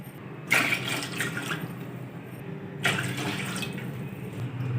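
Yakhni stock is poured from a glass into a pot of lightly fried beef for Kabuli pulao in two splashing bursts, each a close, rushing pour lasting about a second, with no talking.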